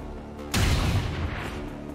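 A single heavy gunshot booms out in the XCOM 2: War of the Chosen video game, a loud sharp blast followed by a rumbling decay that fades over about a second and a half.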